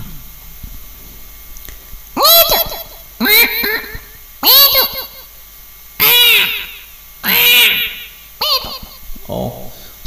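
A voice imitates a parrot with about six loud, shrill squawks spaced a second or so apart, close up.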